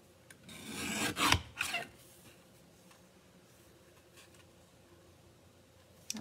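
A small paper trimmer slices through a sheet of cardstock in a short rasping stroke, a close scratchy swipe lasting under a second and followed by quiet handling noise.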